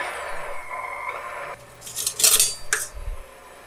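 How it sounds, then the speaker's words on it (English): Ingredients for homemade roll dough are mixed with hot water in a bowl, heard as soft pouring followed by a few sharp clinks and scrapes of a utensil against the bowl, close and fairly quiet. "we're just going to mix everything up to combine"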